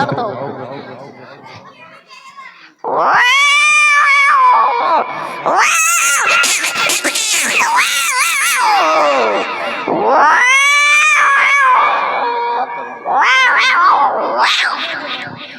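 A voice imitates two cats fighting, with loud wavering yowls, rising caterwauls and screeching bursts in several long phrases after a quieter start, performed as a comic mimicry act.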